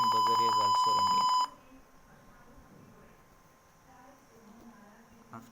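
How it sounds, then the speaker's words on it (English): Buzzer in a simulated burglar alarm circuit sounds a loud, steady electronic tone for about a second and a half, then cuts off abruptly, leaving quiet room noise. "buzzer is also ringing"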